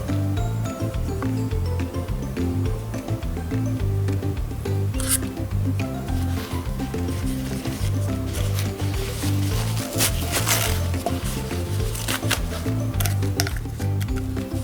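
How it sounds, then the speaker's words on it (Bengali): Tissue paper glued and pressed onto a plastic bottle, giving continuous close, soft rubbing and crinkly scraping strokes with a few sharper rustles, steady for about fifteen seconds. "এইভাবে আমি টিস্যু পেপার লাগিয়ে নেব।"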